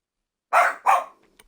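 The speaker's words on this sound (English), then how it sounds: "can you stop? Stop barking." A dog gives two sharp, close barks in quick succession, then falls quiet apart from a tiny trailing sound.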